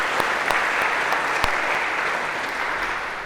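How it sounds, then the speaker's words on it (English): Lecture hall audience giving a round of applause, steady dense clapping with a few sharper individual claps standing out, fading slightly toward the end. "maybe a round of applause to break the ice for these 2"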